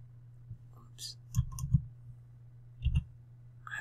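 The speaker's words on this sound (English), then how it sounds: "I have to get used to this new keyboard. I'm typing one-handed." Scattered clicks of one-handed typing on a new computer keyboard come in small bursts of a few keystrokes, near and fairly quiet, with a steady low hum underneath.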